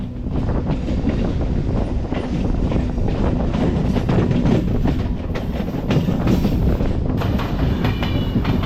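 A MEMU passenger train starting and rumbling steadily along the tracks, with a continuous low roar and rhythmic wheel clatter, close and loud throughout.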